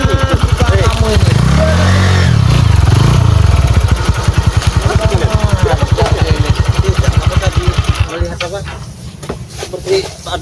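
A motorcycle engine runs close by and loud, a steady rumbling drone with revving swells, continuing under people talking, in a rural setting where wild boar are mentioned.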